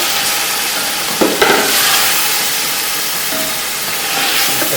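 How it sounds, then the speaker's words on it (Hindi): Chicken pieces frying in a pan with onions and a tablespoon of ginger garlic paste for biryani, giving a steady close sizzle with occasional stirring scrapes and clatters, no voices. "अच्छी तरह भूनेंगे।"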